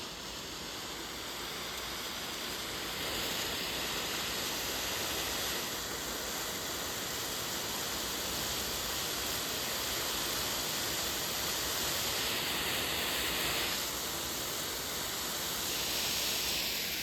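Steady, broad hissing of steam rushing out of a steam carpet cleaner through a plastic hose, continuous and fairly loud, with slight surges in intensity throughout.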